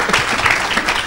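Church congregation applauding the Lord, a brief, loud burst of many hands clapping together close by, steady and bright throughout.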